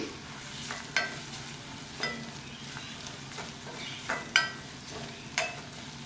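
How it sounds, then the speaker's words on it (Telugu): Turmeric being stirred into an egg curry base frying in a pan, a soft steady sizzle with several distinct spatula scrapes and taps against the pan at irregular intervals, close and without talking. "ఆ తర్వాత పావు టీ స్పూన్ పసుపు వేసి ఒకసారి బాగా మిక్స్ చేసుకోండి"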